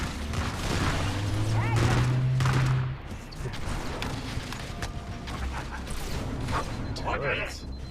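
Dense gunfire and explosions come from the video game Halo, played on Legendary difficulty during a lockdown mission. Rapid bursts and booms ring out throughout.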